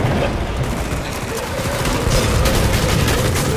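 Dense, continuous gunfire from a Killing Floor 2 co-op match on the Farmhouse map, a loud rattling barrage of shots that runs through the whole stretch with game noise mixed in.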